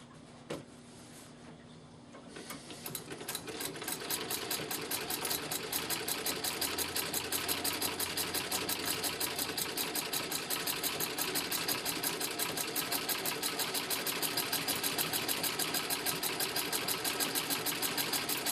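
A treadle sewing machine is powered by foot, starting slowly and then settling into a fast, steady, even run of rapid mechanical stitching clicks that carries on alone at close range.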